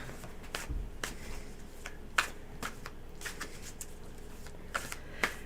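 Tarot cards being shuffled in short riffling bursts, with a few sharper snaps and clicks, fairly close and quiet, no talking.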